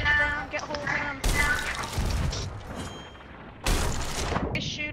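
Gunfire and booming shots in Sea of Thieves, a ship battle at sea: two heavy cracking blasts stand out among scattered shots and crashes, while players talk over the action.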